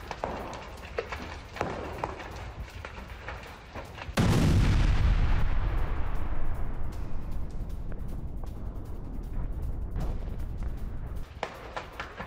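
Missile strike on Kyiv in news footage: a sudden heavy blast at about four seconds, loud and booming, followed by a long rumbling decay, after earlier low thuds and background noise.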